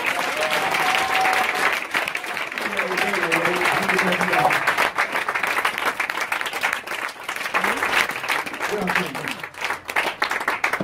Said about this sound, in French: Est-ce qu'on peut acclamer Jésus-Christ? Est-ce qu'on peut acclamer Jésus?